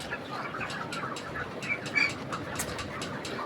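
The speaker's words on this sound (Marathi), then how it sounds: "मित्रांनो असं पूर्ण शेड भरून पक्षी आहेत" A poultry shed full of broiler chickens gives off a busy, moderately quiet din of scattered chirps, rustling and wing flaps, with a brief louder flutter in the middle.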